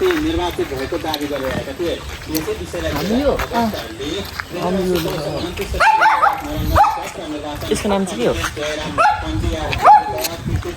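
A black dog barks and yips repeatedly nearby while people talk over it.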